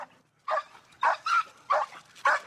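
A frustrated pit bull barks four times in a steady rhythm. The barks are loud, close and sharp, with short gaps between them and no talking.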